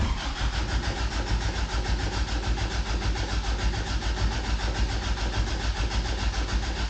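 A classic Toyota pickup engine cranking and turning over, with a continuous rough, pulsing mechanical drone that holds steady and loud throughout, with no voices.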